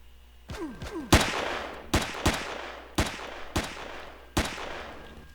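Pistol shots fired in the video game Empyrion ring out as about seven sharp, loud reports, spaced irregularly and each trailing a short decay, with no talk over them.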